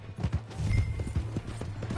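Horse hooves clop on the ground in Red Dead Redemption 2, an irregular run of close, thudding steps with game ambience and brief voices over it.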